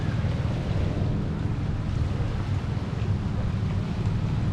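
Steady wind and lapping lake waves along the shore of Whitefish Bay in Michigan, a continuous low broadband rush with no pauses, fairly loud and close to the microphone.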